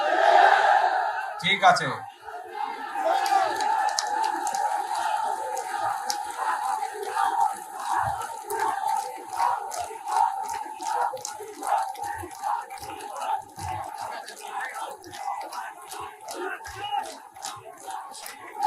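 Rally crowd in Cumilla shouting slogans for a Cumilla division, a rhythmic, sustained chant of many voices with repeated pulses, someone briefly speaking over it near the start.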